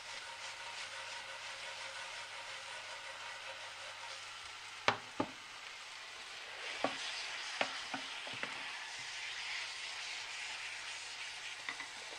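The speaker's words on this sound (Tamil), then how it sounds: "இதை கொஞ்சம் அப்படியே கலரி விடுங்க" Okra thokku, a tangy lady's finger gravy, is stirred as it fries in a pan, giving a steady sizzle with a few sharp scrapes and clacks of the spoon spaced through the middle, with no one talking.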